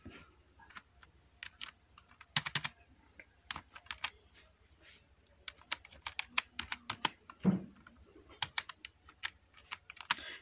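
Fingers type on a computer keyboard while entering data in MS Access, with uneven bursts of quick clicky keystrokes and short pauses, close and fairly quiet, no talking.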